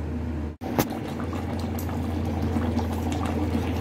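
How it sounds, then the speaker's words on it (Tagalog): Meatballs simmering in a pot of boiling water, a steady low bubbling and rumble that runs evenly throughout with no talk. "hayaan niyo nang mulang magkulo-kulo para yung meatballs niya hindi madurog"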